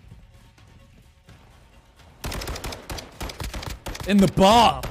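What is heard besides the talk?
gunfire in the video game Call of Duty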